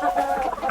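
A large Aseel-cross stag, part Liege with Black Metallic Aseel, gives short, close, guttural clucks in a brief rapid burst.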